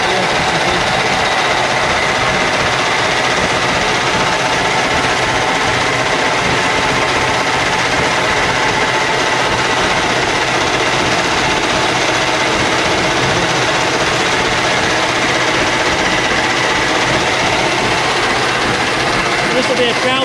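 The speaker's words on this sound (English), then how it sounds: "this has got 65 carriers. But instead of going all the way around, they get to the needle and turn back again." A 65-carrier braiding machine produces flat braid in a military uniform manufacturer's mill, its carriers reversing at the needle; a loud, steady mechanical clatter and whir runs continuously throughout.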